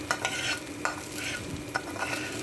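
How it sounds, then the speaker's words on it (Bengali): Flattened rice (chira) frying slowly in a pan for chira pulao, with a steady close sizzle and repeated scraping stirs of a utensil against the pan, no voices. "তো দেখো, আমি আস্তে আস্তে করে এটাকে ভেজে নিচ্ছি।"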